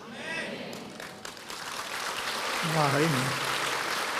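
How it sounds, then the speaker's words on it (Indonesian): A church congregation claps during a sermon, a broad wash of applause that swells and grows louder toward the end, with a brief voice near the start. "Terus tepuk tangan lebih keras lagi."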